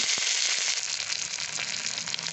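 Steady, bright crackling and spitting of mustard seeds, cumin, onions, green chillies and curry leaves frying in hot oil, continuous and close, with no voices.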